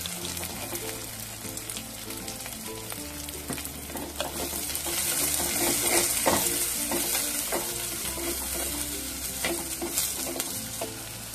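Onion and chilli frying in a pan while being stirred, a steady sizzle with intermittent scraping and clinking of the spoon against the pan, and a faint rhythmic tapping beneath, with no talking.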